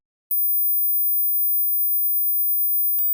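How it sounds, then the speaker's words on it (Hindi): A steady 15000 Hz pure test tone, very high and thin, holds at constant level for nearly three seconds after a short silence, then stops suddenly. "बाद मैं आपको 15000 हर्ट्ज की साउंड सुनाऊंगा।"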